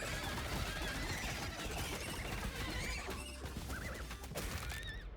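Duck-sized horses in a roguelike video game neigh and whinny repeatedly amid clattering hooves and crashing combat effects, several high squealing calls overlapping through a busy, steady game soundscape.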